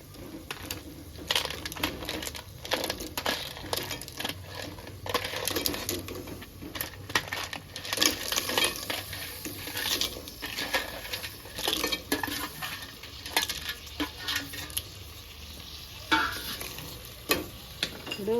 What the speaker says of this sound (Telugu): ఇప్పుడు పీతలు వేసుకోవాలి.